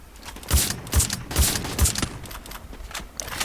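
Burst of gunfire from the Free Fire battle royale game: four or five sharp, evenly spaced shots roughly half a second apart, loud and clear with no talking over them.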